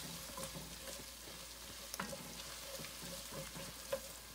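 Food fries steadily in a pan, a soft, even sizzle holding for several seconds with a few faint clicks and taps over it.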